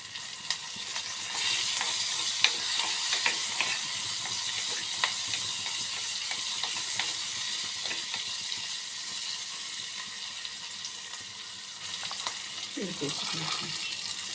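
Garlic, tomato, mint and curry leaves sautéing in a pan for Kerala kootu curry: a steady, close frying hiss with scattered stirring scrapes and spatters, and a brief faint voice near the end.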